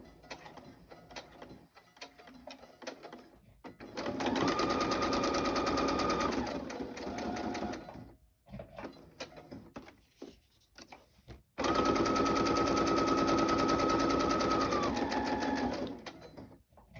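A sewing machine stitches around paper tags made from book pages, in two long close bursts of rapid mechanical whirring. Short pauses with light handling clicks separate them.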